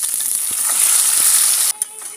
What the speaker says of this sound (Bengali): বন্ধুরা, মাছগুলো উল্টে দেব।